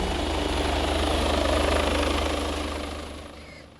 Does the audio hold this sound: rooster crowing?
no